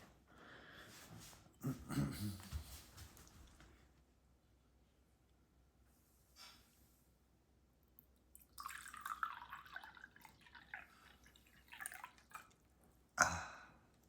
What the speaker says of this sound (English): Look how I pour myself water.